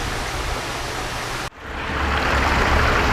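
Water pours steadily down a pondless garden waterfall, a dense, loud rushing wash that briefly cuts out midway and then swells back even fuller, with no voices over it.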